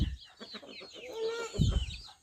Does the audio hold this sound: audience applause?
no